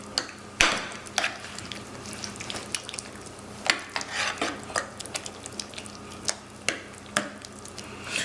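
Ketchup stirred into a pan of beans, a series of thick wet squelching strokes and spoon scrapes in an uneven rhythm, close up and without talking.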